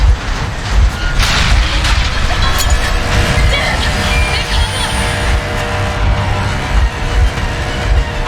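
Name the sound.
train engine running in the video game Metro Exodus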